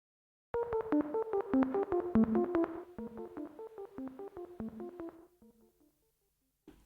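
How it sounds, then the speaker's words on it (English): A soloed synth phrase played on a Roland Juno: a run of short plucked, bell-like notes in quick succession that gradually fade, clean and fairly quiet, with no voice. "We've got this cool little sound that I played in on the Juno"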